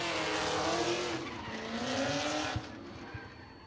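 Drift car sliding around a race track during a competition run, its engine roaring loudly and close with tire squeal and skidding, a few sharp bursts near the end.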